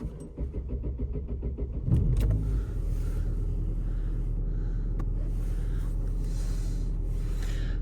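An Opel Vectra B with a 1.6 Y16XE engine cranks briefly, starts, and settles into a steady idle, close and continuous.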